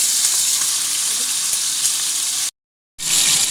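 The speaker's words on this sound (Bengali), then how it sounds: "মাংসগুলো ভেজে নেব হালকা" Chicken pieces frying lightly in hot oil give a loud, continuous sizzle that cuts out for a moment near the end and then resumes, with no voices.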